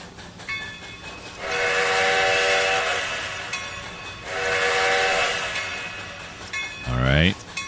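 Train moving slowly past the shops in the Trainz 2019 game on the C&O Hinton route, two long loud whistle blasts sounding over a low rolling rumble, then a brief sweeping tone near the end.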